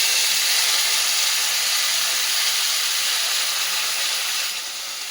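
Tomatoes hit a hot pan of capsicum curry, cooked without onion, setting off a loud, steady broadband sizzle that holds for several seconds and eases slightly at the end.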